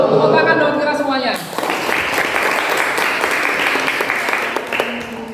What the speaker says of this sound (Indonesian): Tepuk tangan dong kira semuanya.